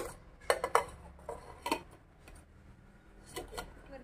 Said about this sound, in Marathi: यामध्ये भाजीचे डब्बे ठेवून द्यायचे